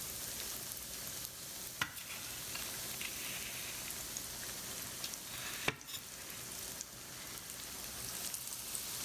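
Two pork chops sizzling in a hot frying pan, a loud, even crackle of spattering fat that continues throughout, with a couple of sharp clinks.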